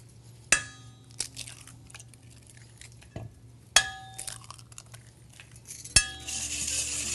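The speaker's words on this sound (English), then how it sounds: "we're going to whisk in a couple of eggs" Eggs being whisked into sweetened milk with vanilla and cinnamon, heard as a few sharp clinks of a utensil against a bowl with soft stirring scrapes between them.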